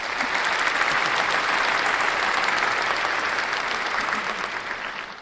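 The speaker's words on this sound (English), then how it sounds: "deserves a clap." Dense, steady applause from a group, loud and continuous for about five seconds before tapering slightly at the end, with no talking over it.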